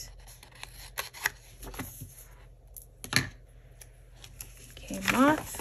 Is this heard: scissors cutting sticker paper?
yes